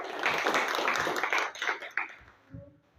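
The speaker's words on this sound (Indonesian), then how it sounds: "Kalian hebat, tepuk tangan dulu" A class of students clapping hands in a classroom, a loud burst of claps that thins out and fades within a few seconds.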